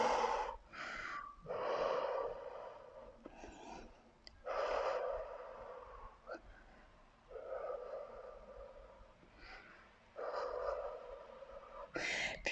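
Heavy breathing and forceful exhales during a beginner-to-advanced HIIT cardio home workout with no equipment, coming as several breathy bursts with pauses between them, close and fairly quiet.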